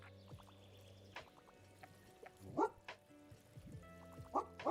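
A dog in Tiny Bookshop gives a few short, soft yips and barks over gentle background music, scattered singly and in pairs rather than in a continuous run.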